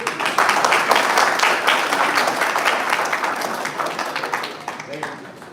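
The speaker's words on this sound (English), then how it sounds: "give a big round of applause for people who do not know what is machine learning" An audience at a data analytics talk breaks into sustained applause, a dense wash of many clapping hands that stays loud and fairly even before tapering slightly, with voices mixed in.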